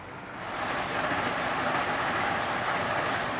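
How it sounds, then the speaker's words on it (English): Storm wind and rain outside build over the first half second into a steady, dense broadband rush that stays loud and even throughout, with no speech. "And it is starting to storm randomly."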